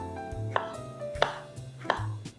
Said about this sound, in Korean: 저는 이 방울토마토를 그냥 동그란 모양 살려서 썰어 볼게요.